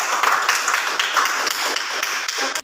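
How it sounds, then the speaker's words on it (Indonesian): Classroom audience clapping during a PAI teaching-practice lesson: a dense, steady patter of many hands for about two and a half seconds that stops abruptly. "Iya, tepuk tangan."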